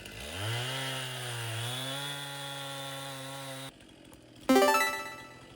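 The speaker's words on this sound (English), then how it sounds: "We still need the chainsaw a lot, so let's begin with the two last poles" Video-game chainsaw engine drones steadily as it revs and pitches up, cuts out briefly, then bursts back in louder with a sharp roaring rev, alone without talk.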